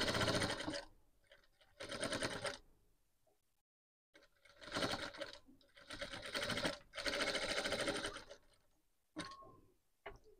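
Sewing machine stitching a blouse neckline, running in several quick bursts of rapid mechanical stitching separated by short pauses, close and clear with no talk.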